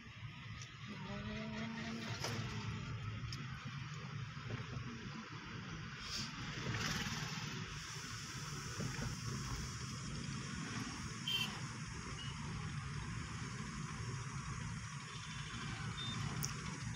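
A car moving along a flyover road near Bagnan, steady engine and tyre rumble from inside the vehicle, continuous and moderately quiet, with faint higher traffic noises now and then.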